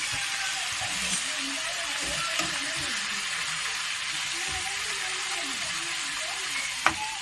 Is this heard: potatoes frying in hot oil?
yes